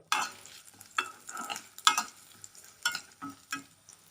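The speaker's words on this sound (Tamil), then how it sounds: "வரமிளகாய் ரெண்டு துண்டு இஞ்சி அஞ்சு பல் பூண்டு சேர்த்து நல்லா வதக்கிக்கோங்க" Dried red chilies, ginger, garlic and lentils sautéing in a pan, with bursts of scraping stirs and short sizzling swells at an uneven pace, close up with no talking.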